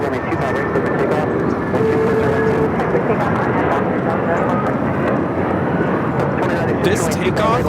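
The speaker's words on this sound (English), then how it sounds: "This takeoff is United Airlines 1331 taking off to Newark on the 757-200." A United Airlines Boeing 757-200 rolls for takeoff on runway 25 right at Los Angeles International, a continuous, loud jet engine roar that holds steady throughout with a faint tonal whine in it.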